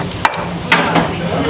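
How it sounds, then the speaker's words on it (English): Spices and herbs being ground into a paste with a mortar and pestle, short scraping and knocking strokes close up, a few distinct taps in quick succession. "all our spices here and herbs into mortar and pestle. We're just going to work this until it's into a fine paste"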